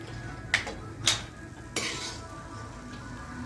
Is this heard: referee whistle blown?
no